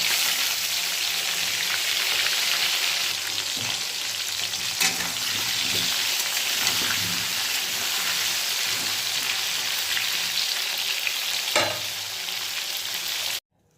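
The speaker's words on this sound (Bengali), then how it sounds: "আলুগুলো একটু ভালো করে ভেজে নেব।" Potatoes frying in hot oil in a home kitchen, a loud, steady, dense sizzle close up that runs unbroken, with a couple of faint clinks of stirring and no voices.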